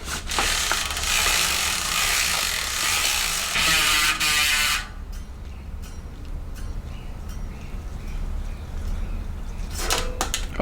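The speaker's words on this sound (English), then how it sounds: "Got a bit of grease that I want to add to the bolts, and then I should be able to tighten everything down" A ratchet tightens the brake rotor bolts on a Commencal Meta HT hardtail mountain bike fitted with a Shimano 203 mm rotor. Dense, close clicking runs for about five seconds, then quiet workshop room tone with a short burst of clicks near the end.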